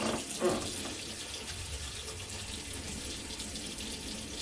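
Water runs steadily from a tap as a cloth is washed under it, a continuous close hiss and splash with a brief slosh near the start.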